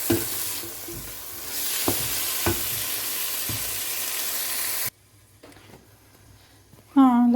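Bell pepper sautéing in a pan for a mushroom velouté: a loud, steady sizzle with a few utensil taps against the pan, then a sudden drop to a quiet room tone and a brief voice at the end.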